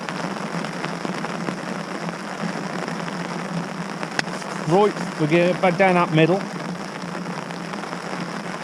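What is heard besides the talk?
rain falling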